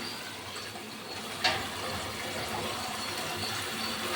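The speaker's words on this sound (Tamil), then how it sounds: "கீரையை நல்லா சுத்தம் பண்ணிக்கலாம் அலசி நல்லா சுத்தம் பண்ணிக்கலாம்" Tap water runs steadily into a kitchen sink while sirukeerai greens are rinsed clean, a soft continuous wash with one brief splash partway through and no talking.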